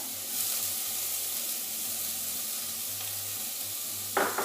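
Diced red and jalapeno peppers cook in a cast iron pan over low to medium heat with a steady, close sizzling hiss and a brief stirring scrape near the end.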